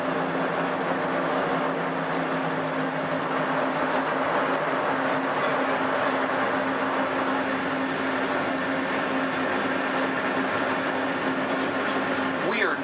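A Disneyland monorail rolls into Downtown Disney Station with a steady, loud interior rumble and hum, a continuous drone with a faint whine that holds evenly throughout, with a voice speaking over it.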